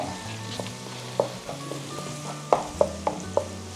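Sliced small onions and cashews fry in a pan, giving a steady sizzle with occasional sharp clinks and scrapes as they are stirred, close up and with no talking.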